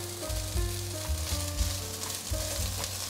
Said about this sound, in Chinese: 现在放入香菇